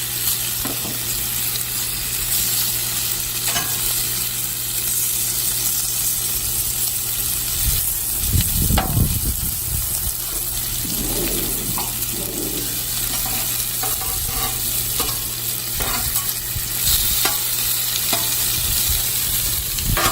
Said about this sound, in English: Let's get it good and hot and add the potatoes.